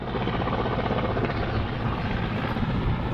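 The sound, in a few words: helicopter departing helipad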